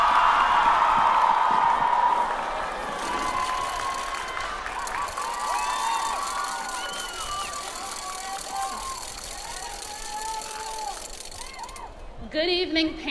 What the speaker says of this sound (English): please join me in a round of applause for our